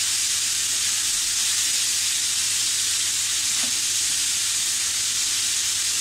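Grated carrots sauté in ghee over medium heat for gajar halwa, giving a steady, even sizzle and hiss that runs unbroken, close and moderately loud, with no talking.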